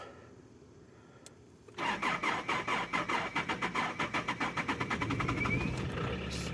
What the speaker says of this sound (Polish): No słyszycie jak to odpala